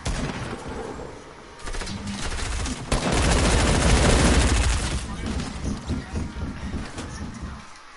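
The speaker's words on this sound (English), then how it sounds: "Machine gun." Machine gun fire in the Fortnite video game, loud rapid bursts building to a sustained, dense stretch of automatic shots in the middle, with players talking around it.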